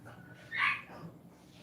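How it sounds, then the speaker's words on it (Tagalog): A dog gives one short bark or yelp at feeding time, close and moderately loud. Quiet room noise surrounds it, and no one speaks. "Pagpakain lang Tita Tati ng aso."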